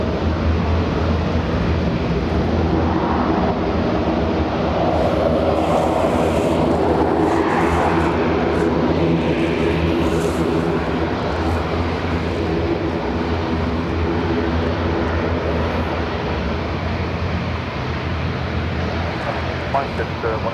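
An airliner bound for Heathrow roars steadily on departure from Dublin Airport, a loud continuous engine rumble with a person talking over it.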